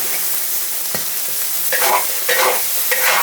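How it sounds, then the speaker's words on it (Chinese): Crab stir-fried in a wok with a handful of Sichuan peppercorns, doubanjiang, ginger, dried chili and scallion, giving a steady loud sizzle with scraping stirs and louder bursts as the spatula tosses the ingredients. "炒蟹，花椒来一把，豆瓣酱来一片"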